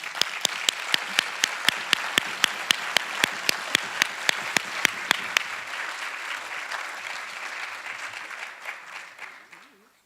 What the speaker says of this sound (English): But please let us applaud.